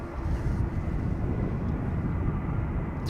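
Jet airliner roaring steadily at Schiphol Airport under a low, cloudy ceiling, a loud continuous broadband rumble holding level throughout with no voices.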